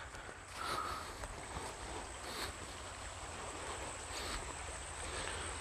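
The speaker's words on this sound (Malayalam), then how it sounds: "അരുവി ഒഴുകുന്നുണ്ട് ഇവിടെ." A stream flowing through a village area in Karnataka, a steady broadband wash of running water with a constant hiss throughout, moderately near, with no talking.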